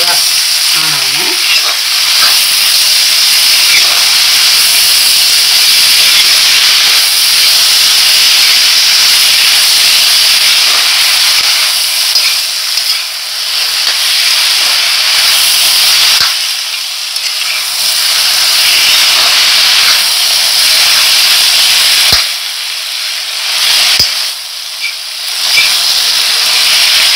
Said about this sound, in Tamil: கொத்தமல்லி எல்லாம் நல்லா வதக்கணும். நல்லா வதங்கி பொன்னிறவா ஆனோன்னு